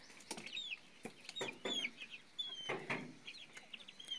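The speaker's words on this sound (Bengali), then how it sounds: "কোয়েল পাখির বেবিগুলা।" Newly hatched quail chicks chirp faintly and close by, a scattered series of thin, high peeps repeating irregularly over a quiet background with no talk.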